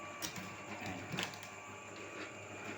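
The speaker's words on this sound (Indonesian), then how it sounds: "kita lihat proses giling ya." A grinder processes chicken slaughter waste with a continuous mechanical whir, steady and fairly loud, marked by a few brief knocks and rattles and no talking.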